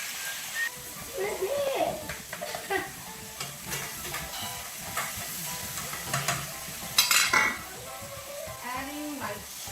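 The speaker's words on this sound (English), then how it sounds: "it's gonna fry up a little bit" Food for Haitian legume sizzles and is stirred in a frying pan, a soft crackle running under people talking nearby, with occasional utensil scrapes.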